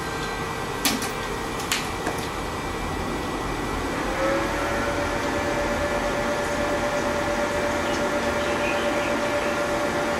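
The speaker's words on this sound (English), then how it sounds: "that's the sound of the ProCurve switch" HP ProCurve network switch running alongside servers and their cooling, a steady broadband fan whir with a sustained tonal hum entering partway through, a few faint clicks near the start, continuous and close.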